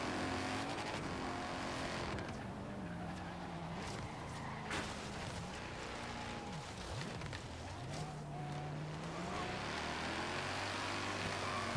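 Engines roar steadily as racing cars overtake one another in Forza Horizon 3, including a big Bentley and a Ferrari, with pitch sweeps rising and falling as cars pass, loud and continuous throughout.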